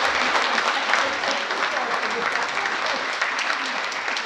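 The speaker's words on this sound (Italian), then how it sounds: "Quindi un applauso per i nostri sponsor." An audience at a charity event for a children's home in Burundi applauds its sponsors, with dense, loud, sustained clapping filling the room without a break.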